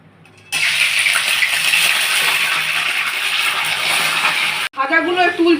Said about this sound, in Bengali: এখানে আমি চিংড়ি মাছগুলো প্রথমে ভেজে নেবো বন্ধুরা।